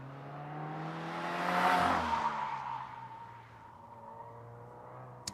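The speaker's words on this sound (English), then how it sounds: "look at that beautiful WRX" A Subaru WRX race car on an autocross run at Lake Elsinore, California, its engine note swelling to a loud pass near the middle, then easing off as it moves away, with a faint tire scrub.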